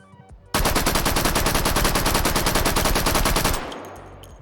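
A submachine gun fires in the VR shooting game H3VR, one sustained, loud, rapid burst of evenly spaced shots lasting about three seconds, then cutting off into a brief fading echo.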